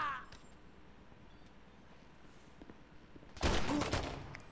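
A burst of gunfire in GTA 5 roleplay: a loud, dense volley near the end follows a quieter stretch of low game ambience, with a faint sharp sound at the very start.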